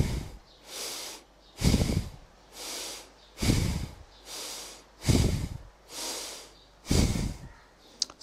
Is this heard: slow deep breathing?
yes